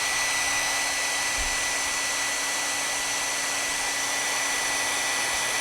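A hair dryer runs steadily and loudly at a demonstration, a constant whooshing roar with a fixed motor whine, alone and without talk.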